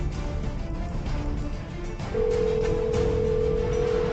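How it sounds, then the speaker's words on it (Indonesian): A steady telephone tone sounds during a call, starting partway through and holding loud and unbroken to the end over a faint, noisy background. "Gu Shuzo, kamu berani telepon aku?"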